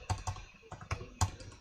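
Keys on a computer keyboard tapped in a quick irregular burst of about six soft, close clicks, with no voices over them.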